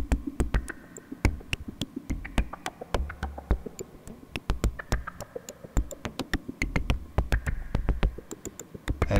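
A Eurorack modular synth with a Trigotronic M669 fed three random voltages from a 4R module plays a busy, clicky sequence of sharp ticks and low pulses, quiet and irregular, with sparse bass drum hits.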